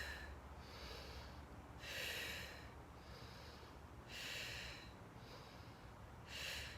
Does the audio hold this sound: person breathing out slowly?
yes